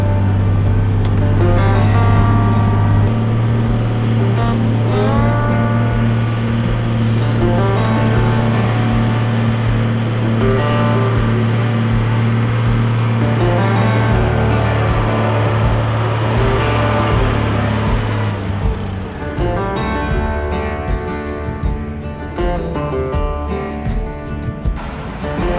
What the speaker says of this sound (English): Unimog heading westbound, cresting